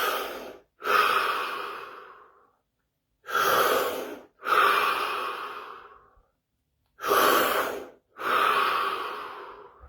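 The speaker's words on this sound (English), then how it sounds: "3 deep breaths followed by 15 seconds of absolute stillness and silence" Three deep breaths, each a slow audible inhale followed by a long, fading sighing exhale, spaced apart by short silent pauses and heard close and alone.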